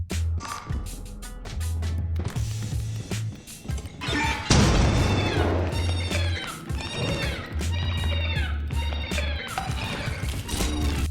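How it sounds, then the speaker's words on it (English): A landmine explosion set off by a Maneater in Lethal Company hits as a sudden loud blast partway through, surrounded by dense game sounds, creature cries and clatter that carry on before and after. "Maneaters are able to explode mines, and they do not die as a result of that explosion"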